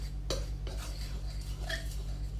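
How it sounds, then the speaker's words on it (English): A butter knife scrapes and clinks against a bowl while mixing scone dough, a few soft irregular strokes close by over a steady low hum. "I'm going to use a knife, just a butter knife, just to mix it together to start with"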